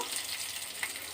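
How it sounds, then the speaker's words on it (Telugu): Whole spices for tempering fry in hot oil in a pan for curd rice: a close, steady sizzle and crackle with no voices. "వేసుకొని బాగా ఫ్రై చేసుకోవాలండి."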